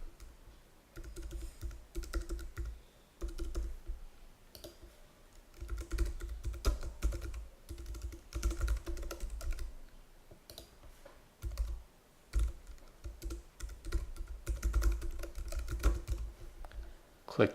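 Rapid keyboard typing fills in a software activation screen, a quiet steady patter of key clicks with brief pauses, close to the microphone and alone.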